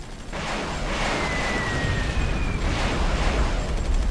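Aircraft being shot down in the strategy game Supreme Ruler 2020, heard as a continuous rumble of explosion-like booms in rolling waves with a thin whistling tone through the middle, fairly loud and without talking.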